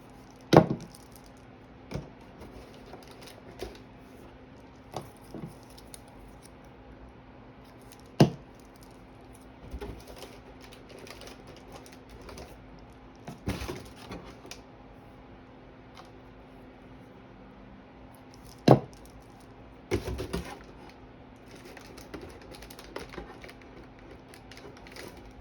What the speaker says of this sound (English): The machine has been cut non-stop for a while just to get all these flowers and butterflies cut.